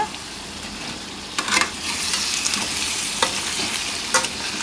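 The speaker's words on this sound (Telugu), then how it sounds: "ఈ విధంగా అల్లం వెల్లుల్లి ఉల్లిపాయ పేస్ట్ మొత్తం కూడా ఈ ముక్కలకి పట్టేటట్టుగా, పీతలకు పట్టేటట్టుగా గరిటతో చక్కగా నీట్గా కలిపేసుకోవాలి" Crabs with ginger garlic onion paste are stirred with a ladle in a hot pan for an Andhra-style crab curry, giving a steady close sizzle broken by a few scraping ladle strokes.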